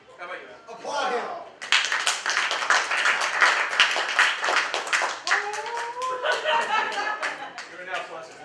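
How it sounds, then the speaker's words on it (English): Clapping from a panel audience at an animation celebration event, a dense patter of hands building after a short pause, with chuckles and overlapping voices running underneath. "Applaud him."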